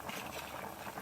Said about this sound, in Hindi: ये देखें हमारा ज़बरदस्त बॉयल आना शुरू हो गया है।